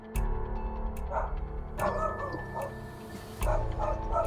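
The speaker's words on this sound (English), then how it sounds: "I'm not sure if you can hear the barking." A dog barks intermittently in the background of a home, with short bursts spaced a second or so apart, fairly distant and moderately loud.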